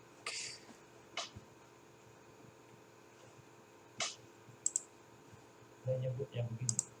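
A computer mouse gives scattered, faint clicks, a few isolated taps spread over several seconds against a quiet room hum, with speech near the end.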